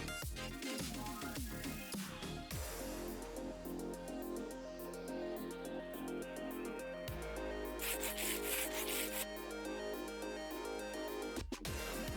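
Continuous scratchy rubbing and rasping as sandpaper is used in the video game Minecraft modpack Stoneblock 3, with changing layered textures, game sounds and a few abrupt shifts, fairly steady in level and without speech.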